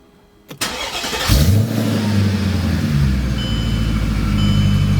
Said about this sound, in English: Try to fire it back up and see what it does.